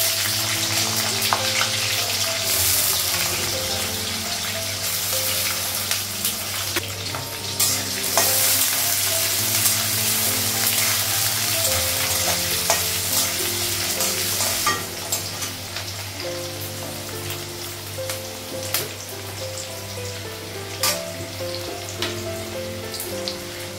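Green chillies, onion and potato fry in hot oil with a steady, loud sizzle, broken by the scrape and clatter of stirring in the pan throughout; no one speaks.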